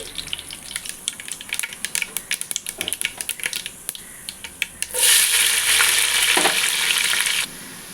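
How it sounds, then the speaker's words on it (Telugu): Mustard, cumin and fenugreek seeds crackle and pop in hot oil in rapid uneven bursts, followed by a loud, sudden sizzling rush as onions go into the pan, which hisses steadily and then cuts off. "ఆవాలు జీలకర్ర మెంతులు వేసుకోండి ఇవి కొంచెం చిటకట అన్న తర్వాత ఆనియన్స్ని వేసుకోవాలి"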